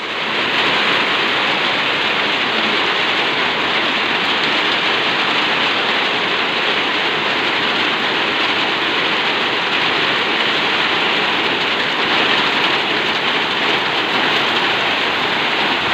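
Heavy afternoon rain pours down on roofs in Pinugay, Baras, Rizal, a dense, loud, unbroken hiss that stays steady the whole time with no voices.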